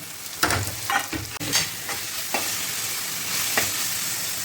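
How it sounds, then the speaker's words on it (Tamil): Ginger garlic paste sizzles with onion and tomato in a hot pan for pepper chicken, a steady loud frying hiss broken early on by several sharp stirring scrapes of the spatula. "இஞ்சி பூண்டு பேஸ்ட்டு போட்டாச்சு. இப்போ அது நல்லா வதங்கணும்."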